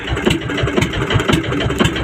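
A fishing boat motor runs steadily at sea off Palawan, a loud, close, throbbing engine drone with an even pulsing rhythm and no voices over it.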